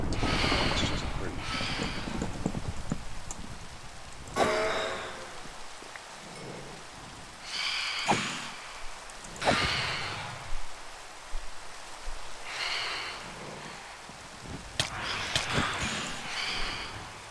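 Rain falling steadily in Minecraft, a broad continuous hiss with occasional thunder-like thumps, while people talk over it at intervals.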